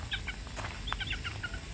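Butcher Mt. Banahaw line chickens cluck and chirp nearby in short, repeated bursts, with a low background rumble underneath and no talking.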